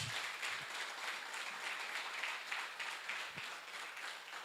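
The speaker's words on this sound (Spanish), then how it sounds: "Dale un aplauso fuerte a Jesús." A church congregation gives loud, sustained applause for Jesus during a resurrection sermon, a dense even clatter heard from a distance at low level.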